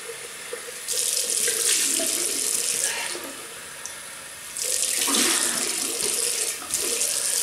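A double-edge safety razor is rinsed under a running sink tap, water gushing loudly in two bursts separated by a brief quieter pause, with no voices.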